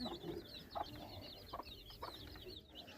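Young desi chickens huddled together cluck and cheep softly in a steady chorus, with high chirps running throughout and a few louder clucks standing out, all faint and close.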